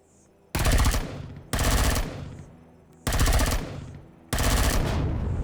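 Automatic weapon fire in the space survival game Empyrion Galactic Survival: four loud, dense bursts of rapid shots about a second long each, separated by short quiet gaps with ringing tails.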